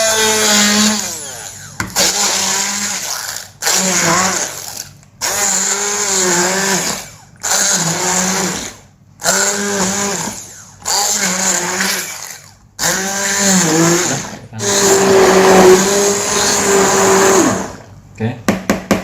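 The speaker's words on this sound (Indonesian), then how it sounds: "Kita ngejus tomatnya ya." A kitchen blender purees tomatoes for a homemade sauce, whirring loudly in repeated short bursts separated by brief pauses, its motor pitch rising and falling as the fruit breaks down.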